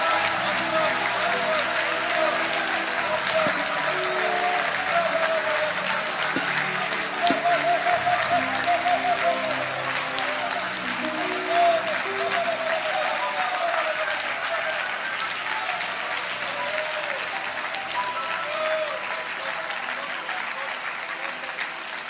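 A church congregation applauds while praising God, a long stretch of sustained, dense clapping with a voice speaking or chanting over it throughout.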